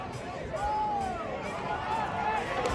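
A soccer supporters group cheering on their team at a Monterey Bay match: a steady crowd roar with sung and chanted voices rising and falling at a distance.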